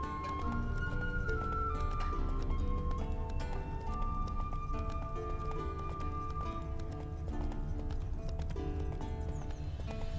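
Hooves clop steadily as the horse Roach is ridden in The Witcher 3: Wild Hunt, with a brief whinny, all under loud, continuous game music.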